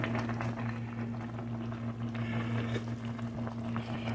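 Salmon-head sinigang soup bubbles steadily at a rolling boil in a pot, continuous and close, with a low constant hum underneath.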